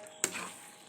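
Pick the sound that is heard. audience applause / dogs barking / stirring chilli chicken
stirring chilli chicken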